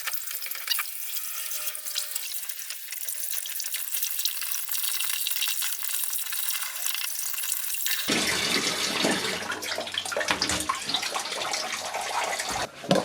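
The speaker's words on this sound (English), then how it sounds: "all the water coming out of that tap there has actually come from the sump" Water runs from a tap fed by a sump pump in a bunker dug underground, a steady broadband gush that grows louder and closer partway through, with no talking.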